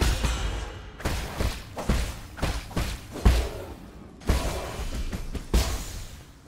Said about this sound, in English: Not even talisman explosions get them.